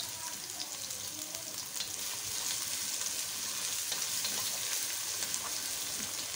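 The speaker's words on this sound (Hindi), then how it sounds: "मैं इसको मिक्स कर रही हूँ, ताकि बहुत अच्छे से इसका फ्लेवर आ जाए" Ginger garlic paste being stirred and fried in a pan for a chana biryani: a steady, close sizzle with constant crackling, no pauses and no talking.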